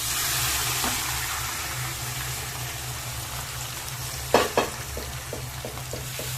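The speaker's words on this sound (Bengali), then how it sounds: "এবার আমি কুকারে সেদ্ধ করা আলুটা কড়াইয়ের মধ্যে দিয়ে দিচ্ছি।" Boiled potatoes frying in a kadai with browned onion, ginger and garlic, a steady close sizzle throughout, then a few sharp scraping stirs near the end followed by a quick run of rhythmic ladle taps.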